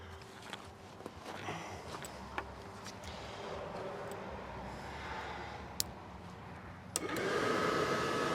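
A furnace fan motor hums with a steady whirring drone, joined by faint clicks and handling noise, then swells louder and brighter near the end as it spins faster.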